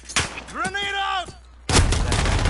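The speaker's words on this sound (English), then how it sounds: "Grenade out!" A grenade goes off in Call of Duty: Modern Warfare as a sudden, loud, close blast with a sustained rumbling tail, after a brief tonal cry and a few sharp hits.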